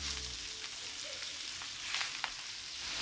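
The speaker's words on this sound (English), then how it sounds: "Let's put the spinach right in here." Spinach sizzling and frying in a pan with lightly golden garlic, a steady soft hiss with faint crackles and a few stirring scrapes, quiet and close, no voices.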